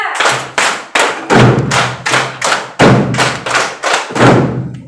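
A classroom of children claps together in counted patterns, with sharp unison claps and short pauses between the groups. The claps come loud and close in a steady rhythm, with no talking over them.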